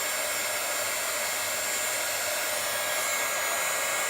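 A heat tool blows steadily on craft paint, a loud continuous airy rush with a faint whine held evenly from start to finish, no voices.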